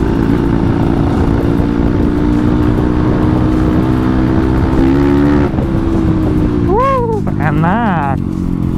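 A Kawasaki KLX dirt bike bored up to 200 cc idles loudly and steadily, then revs up sharply in a couple of quick bursts near the end, heard up close.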